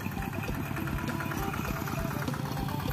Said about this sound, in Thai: ใช้ไถเดินตามนะครับรถไถเดินตามนะครับ